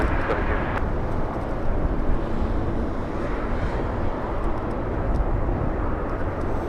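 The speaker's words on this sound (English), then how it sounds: "Heavy Airbus touching down" Heavy Airbus A330 airliner touching down at LAX, a loud, steady broadband roar of jet engines and rushing air that holds without a break.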